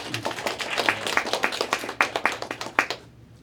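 Audience clapping at a church inauguration service for a new association chairman, a moderately loud burst of sharp individual claps that thins out and stops near the end.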